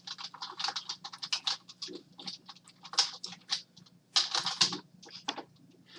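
Rapid typing on a computer keyboard, entering a math function: a close, irregular stream of light key clicks running steadily for several seconds, with short pauses and a few louder bursts.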